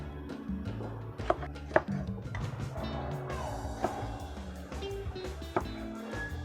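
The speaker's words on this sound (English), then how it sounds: "we have our fruit all nicely chopped up in here" A knife chops fruit on a cutting board for red wine sangria, with several sharp, irregular knocks and cuts close by over soft handling and scraping noises.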